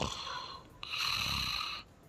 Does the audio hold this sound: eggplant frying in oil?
no